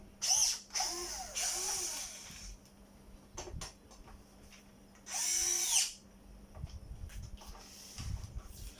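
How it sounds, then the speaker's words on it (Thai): An electric drill whines in two short bursts, revving up and winding down, separated by quieter clicks and handling noises, while working on an upgraded metal servo for a Huina 1592 RC excavator. "ก่อนหมุนเราก็จะทำใช้สว่านถ่วงนะครับ"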